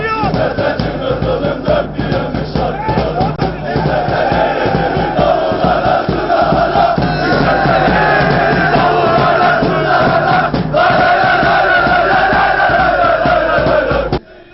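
Kocaelispor football supporters massed outside the İsmet Paşa stadium during a match against Bayburt, a dense, continuous crowd roar with chanting voices rising and falling steadily throughout.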